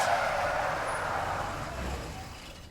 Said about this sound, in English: The sound of screeching brakes filled the air as the vehicle skidded to a halt, and then Kenji Osawa jumped down from the d